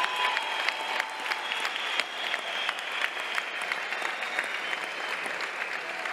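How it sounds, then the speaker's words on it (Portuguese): A crowd at a live combat event claps and cheers in steady, dense applause that carries on for the whole stretch with no speech over it. "Foi mesmo a pedir palminhas"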